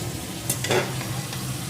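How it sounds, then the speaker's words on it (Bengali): Rice and lentils are fried with vegetables in a pressure cooker for vegetable khichuri, giving a steady low sizzle with a few brief scrapes of stirring, close and fairly quiet, with no talking. "এখন চাল ডালটাও এই সবজির সাথে একটু ভেজে নেব"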